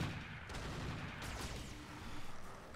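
Mech weapons firing in the Roguetech BattleTech video game, a sustained rumbling barrage of booms and crackling shots at moderate volume.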